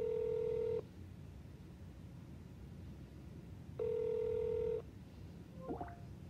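Telephone line tones during a call transfer to a superintendent's office voicemail: two long steady beeps about three seconds apart, then a short chirp, over faint line hiss, with no talking.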